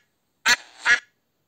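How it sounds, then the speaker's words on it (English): A duck quacks twice, each call short, loud and nasal with a brief gap between them. The calls are alone and close by. "Duck."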